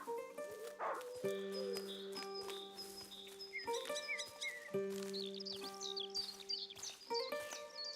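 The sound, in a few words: dog barking in the video game A Plague Tale: Innocence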